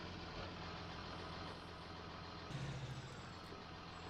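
A tractor with a worn exhaust idles steadily in Farming Simulator 19, its low rumbling drone continuous and close, with a slight surge partway through and no speech.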